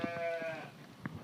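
A sheep gives a wavering bleat at close range, then a second short, fainter bleat follows after a brief pause, with quiet surroundings.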